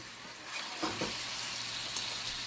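Pork chops and onions sizzle steadily in a pan, a continuous loud frying hiss with a few brief stirring or shifting sounds, and no voices.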